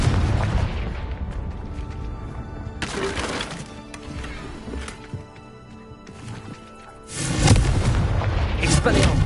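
A Confringo fire spell from Hogwarts Legacy on PS5 blasts in two heavy, booming bursts about four seconds apart over a low, continuous game background.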